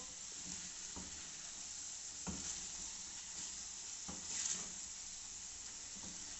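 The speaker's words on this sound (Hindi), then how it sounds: "फिर से इसको भूनेंगे मसालों के साथ चिकन को।" Chicken fries with spices in a karahi, giving a steady, quiet sizzle with a few soft stirring knocks and scrapes spread through it, and no voices.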